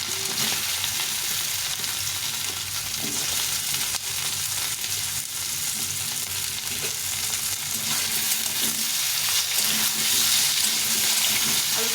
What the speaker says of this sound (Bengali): প্রথমে আলুটাকে একটু ভেজে নেবো